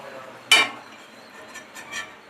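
Crispy fried masala potato fries set down on a plate give one sharp, close crackling clatter, followed by a couple of fainter light taps and rustles in a quiet kitchen.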